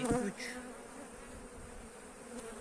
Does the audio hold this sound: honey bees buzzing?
yes